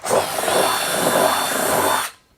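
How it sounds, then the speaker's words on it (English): A power drill with a 1/2-inch bit whirs loudly and steadily for about two seconds, boring through a plastic tank, then winds down and stops. "I take my previously prepared 1/2-inch drill bit and I go anywhere along the tank"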